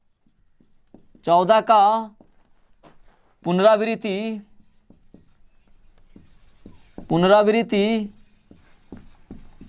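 A pen writes numbers by hand on paper during a maths lesson, its faint scratches and taps sitting between three short bursts of a man's speech.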